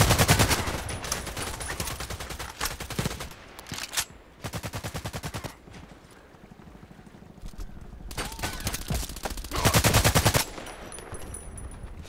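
Loud, rapid automatic gunfire from the online shooter Contract Wars, with long rattling bursts and short breaks between them, close and dense throughout.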